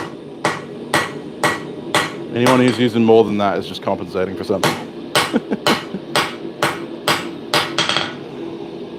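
A smith's two-pound hammer strikes hot steel while forging a lap-welded socketed chisel, the blows landing in a steady, evenly spaced rhythm, loud and close, while someone talks over them.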